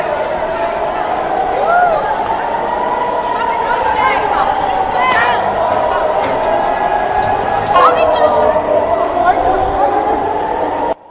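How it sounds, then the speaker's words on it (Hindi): A panicked crowd rushes to shelters after air-raid sirens, a dense babble of many voices and shouts with scattered footsteps and thumps, loud and continuous throughout. "तो आप सुन सकते हैं कि किस तरीके की अफरा तफरी यहाँ पे मची है।"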